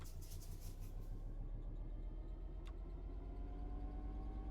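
Class 66 diesel locomotive pulling away in Train Sim World 4, a steady low diesel rumble with a faint rising engine tone and a brief high click partway through, heard alone.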